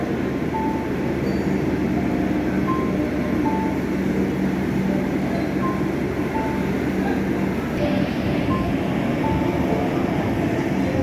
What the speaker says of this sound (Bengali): পঞ্চগড় থেকে ছেড়ে আসে সেই ট্রেনটি কিছুক্ষণের মধ্যেই সান্তার জংশনে 3 নম্বর প্ল্যাটফর্মে এসে পৌঁছে যাবে